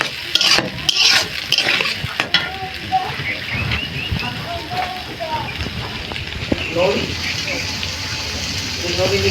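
Onion and garlic fry and get stirred in a pan for Bengali khichuri, with a steady close sizzle and repeated scraping strokes of a spoon, while someone talks over the cooking.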